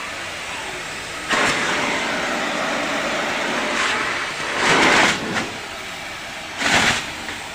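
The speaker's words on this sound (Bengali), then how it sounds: "হাওয়া বের হচ্ছে" Air hisses steadily from the centre pipe of a 50 cubic metre biogas plant on a cattle farm, with three louder rushing bursts swelling up over the constant escaping flow.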